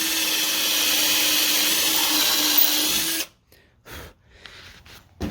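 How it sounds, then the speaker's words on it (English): A power drill with a small bit whines steadily and loudly for about three seconds drilling a pilot hole, then stops abruptly, followed by a few faint knocks and rustles. "The tip for drilling really clean holes is to use a small drill bit first"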